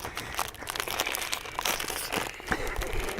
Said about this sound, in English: Can I be having the Saturday night public listening to me eating crisps?